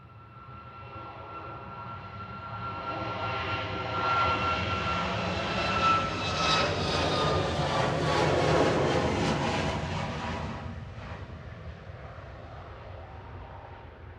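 An airliner taking off at Manchester Airport gives a rising, broad engine roar that swells to a loud peak midway and then slowly fades as the plane climbs away.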